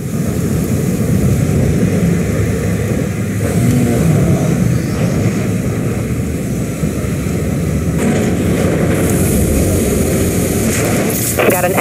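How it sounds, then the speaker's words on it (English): Maneuvering thrusters of a warship powering up in the video game Dreadnought, a loud, continuous engine roar and rumble that holds steady throughout, with brief rushing surges near the end. "Full power to maneuvering thrusters."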